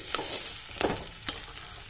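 Potato and nuts fry in a pan with cumin, garam masala and a little sugar, a soft continuous sizzle broken by a few sharp scraping strokes of stirring, close and fairly quiet.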